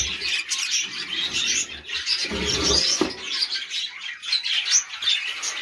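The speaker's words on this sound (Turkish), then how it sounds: "Kuşlar" Pet birds chirping and squawking indoors near their nest, a continuous busy chatter of high tweets with a few louder calls, close and fairly loud.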